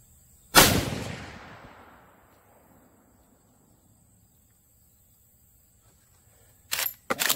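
A Rossi 95 Trapper rifle firing 170 grain Federal Power Shock rounds outdoors: one loud, sharp shot with a long fading echo, then two quick shots close together after several seconds of quiet.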